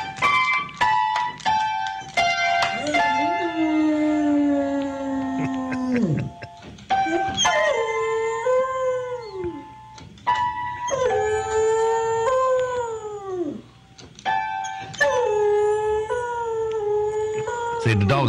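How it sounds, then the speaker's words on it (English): A beagle basset hound mix howls in long, drawn-out wails, several rising and falling bouts in a row, with a few short yips and whimpers between them. "See, the dog's playing and howling."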